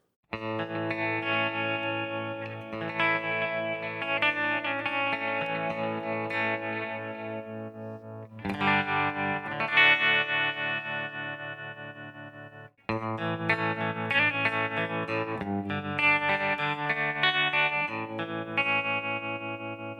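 Electric guitar lines with an eighth-note delay effect repeating the notes, giving a lush, echoing, continuous wash, played alone at moderate volume.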